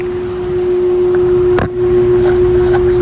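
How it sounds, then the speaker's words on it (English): A York Stellar air conditioner runs with its fan motor on and the compressor off, its blades spinning slowly. It gives a loud, steady low hum with a constant tonal drone and a brief dip midway, close up, with no talking. "The compressor isn't running, but the fan is running, and the blades are spinning really slow."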